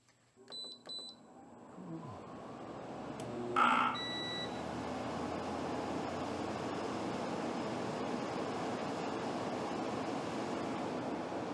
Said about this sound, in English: Give a little beep there because there was an overload at startup